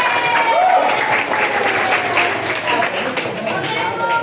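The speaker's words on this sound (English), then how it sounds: "Okay, give applause." A classroom of students claps for a few seconds during a speaking-course teaching simulation, fairly loud and close applause with some voices mixed in.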